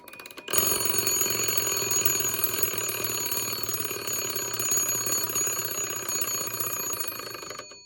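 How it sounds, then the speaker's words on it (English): An antique chromed Ansonia alarm clock bell rings continuously after a brief silence, a bright metallic rapid-fire jangle that stays loud and close until the end, with no voices. "Let's try winding up the alarm."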